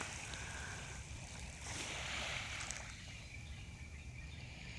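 Sea waves wash onto the shore at Ao Thong Kham in the morning, a steady broadband roar with a slightly louder surge in the middle, mixed with light wind noise and no voices.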